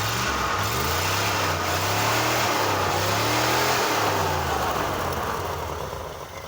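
A 318 V8 fed by a cheap two-barrel carburetor revs hard, its throaty roar rising and falling in waves, loud and close throughout with no talking.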